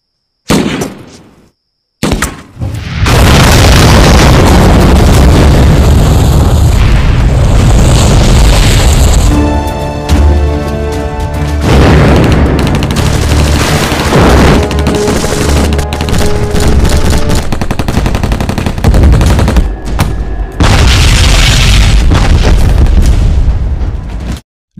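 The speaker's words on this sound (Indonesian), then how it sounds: "pasukan sniper yang telah bersiap di posisinya mulai meledakkan tong minyak milik musuh" Enemy oil barrels blown up by snipers in an action film about elite troops assaulting a terrorist base: a loud, sustained stretch of booming explosions and rumbling blasts, with gunfire and bursts crackling throughout and brief quiet gaps near the start.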